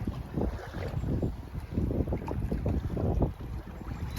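Outboard motor on an inflatable boat trolling in second gear on Sapanca Lake, a steady low drone with wind buffeting the microphone and water noise throughout.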